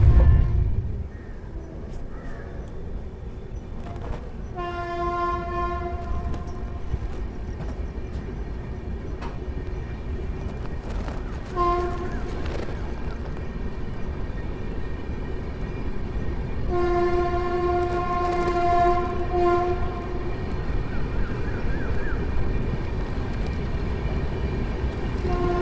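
A Janshatabdi express passenger train, number 12079, runs between Bangalore and Tumkur, heard from inside a seating coach: a steady low rumble of wheels on rail with a loud, drawn-out horn sounding in several blasts.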